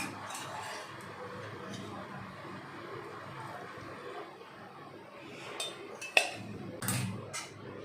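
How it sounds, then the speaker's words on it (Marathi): A spoon stirs hot sugar syrup into besan ladoo mixture in a pot, making soft scraping and a few sharp metallic clinks and knocks toward the end, with faint speech in the background. "पाक आपला गरम आहे त्यामुळे चमच्याच्या साह्यानेच इथे आपल्याला याला मिक्स करून घ्यायचं आहे"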